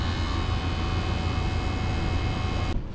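An HVAC system's vacuum pump runs at a steady, loud drone with a constant hum and whining overtones, continuing unchanged until it cuts off abruptly near the end.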